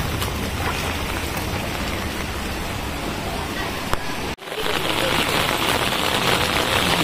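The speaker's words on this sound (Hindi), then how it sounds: "भाई फिर से बारिश तेज हो चुकी है, आपको अगर आवाज़ आ रही हो बारिश की" Steady heavy rain pouring down in Gurgaon, a dense continuous hiss close around, with a brief dip partway through before the downpour resumes just as loud.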